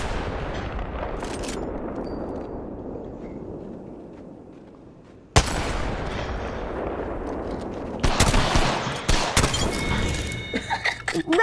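Gunfire at an outdoor firing range: sharp broadband bangs that ring out and slowly fade, then a fast cluster of shots near the end, with a voice briefly heard.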